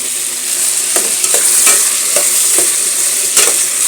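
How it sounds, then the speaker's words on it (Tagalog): Vegetables for laswa are stirred in a pan, with a loud, close hiss of sizzling liquid and a series of regular scraping strokes about every half second, without any talking. "Halo-haloin natin para lumabas yung katas."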